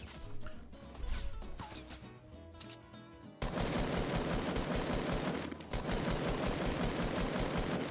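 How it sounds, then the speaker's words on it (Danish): Automatic gunfire rattles in dense bursts during a Fortnite shootout, loud and close, starting softer and then erupting into sustained rapid fire with a brief pause before continuing. "Skudduel mellem en skelet og en cowboy."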